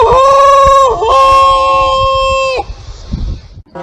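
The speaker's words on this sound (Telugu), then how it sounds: "ఈ కోడి దీని అరుపులతో షిప్పును మొత్తం లేపేసేలా ఉంది" A rooster crows loudly and close by, two long harmonic calls back to back, followed by faint rustling.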